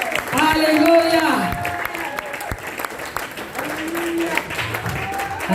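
A church congregation at a French-language seminar service breaks into loud applause and cheering while a voice sings and calls out over the clapping.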